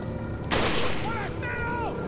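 A single loud gunshot cracks in Resident Evil 4, a sharp blast with a ringing decay, followed by a brief rising whine and background game noise, with a voice talking faintly.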